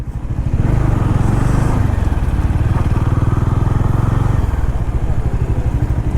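A four-year-old Bajaj Dominar 400 motorcycle idles steadily and loudly up close, its engine pulsing in an even, continuous thrum with a slight rise in revs partway through.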